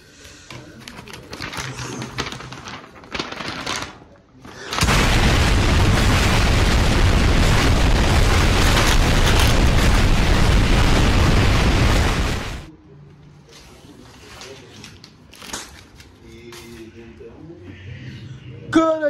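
A loud, sustained roaring fuel explosion from a flammable chemistry experiment erupts after some background chatter, holding steady for several seconds before cutting off, followed by voices and faint bird calls.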